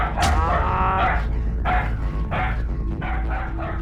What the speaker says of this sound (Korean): 뭐 아무것도 안 했는데 이렇게 짖죠?